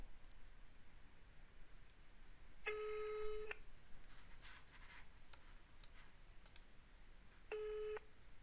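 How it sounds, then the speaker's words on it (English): A phone ringback tone sounds twice while calling a contact-center voice bot, two steady electronic rings separated by a long pause, over faint background hiss and a few soft clicks. "So I will now call the bot again on the voice line on my phone."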